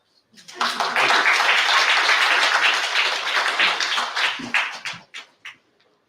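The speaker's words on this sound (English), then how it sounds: "let's have a good applause now" Audience applause at a peace and conflict prevention conference swells quickly into a dense burst of clapping, holds for several seconds, then thins to a few scattered claps.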